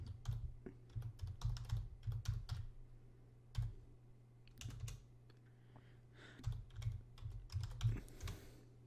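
Computer keyboard typing in irregular bursts of close, crisp key clicks with brief pauses, no voices.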